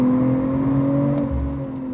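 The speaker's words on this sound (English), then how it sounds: "And then you floor it and this engine sounds good." A powerful BMW car engine revs hard at full throttle, a loud sustained roar with rising harmonic tones, no voices over it.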